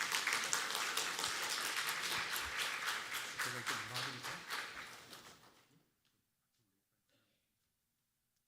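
A church congregation claps to welcome a missionary, a dense burst of applause that fades over about six seconds into near silence.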